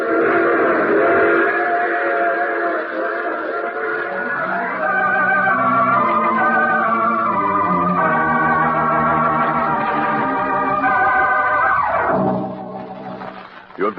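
A train sound effect from an old radio drama: rumbling wheels with drawn-out, shifting whistle tones, loud and steady for about twelve seconds before cutting away, with no talk over it.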